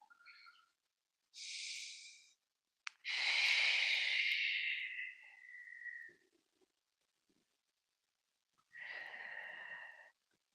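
Slow, breathy exhalations during a tai chi class come in several separate airy bursts with quiet gaps between them. One long out-breath trails off into soft whistling tones.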